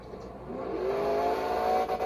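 In the Monster Jam Showdown video game, the El Toro Loco monster truck's engine rises in pitch as it accelerates, a steady close revving drone with no talk over it.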